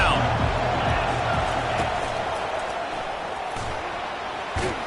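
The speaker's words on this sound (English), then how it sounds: "Decibels rising as the crowd gets behind this defense on 3rd down." Crowd noise in a college football video game swells on a third-down defensive play, a constant roar with a few sharp thumps and claps, while commentary continues over it.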